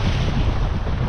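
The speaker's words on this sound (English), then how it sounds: "And the wind is getting a little bit better" Steady wind roars and buffets the microphone on a beach during salmon fishing, with a continuous broadband rush and surf-like wash throughout, loud and unbroken, no voices.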